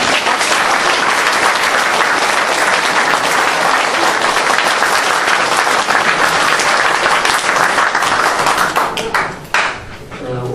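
Loud, sustained applause fills the room for a guest lecturer at a Korean forum, dense clapping holding steady for about nine seconds before tapering off near the end.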